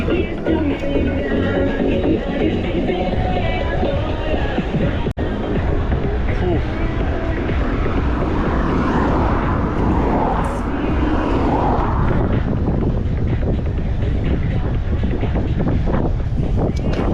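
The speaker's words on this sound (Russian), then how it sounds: "Капец, тут ветер." Strong wind buffets the microphone on the Crimean coast near Meganom and Sudak in July, a loud continuous roar with gusts, and voices talking faintly beneath it.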